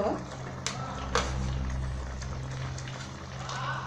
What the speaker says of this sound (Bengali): মিনিট পাঁচেক পর ঢাকনা তুলে রান্নাটা ফুটতে শুরু করলে